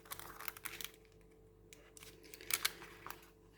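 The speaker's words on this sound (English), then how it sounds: "I'm just going to get my small scissors because I think this will make it easier" Small scissors cut paper in quiet, close snips and rustles, a few bursts of crisp clicking separated by short pauses.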